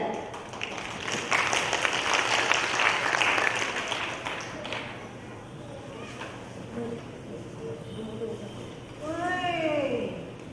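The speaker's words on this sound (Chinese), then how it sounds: "让我们掌声来欢迎吉嘎索岸文件站" An audience claps steadily for several seconds, the applause thinning out, followed by a voice speaking and a high, wavering call near the end.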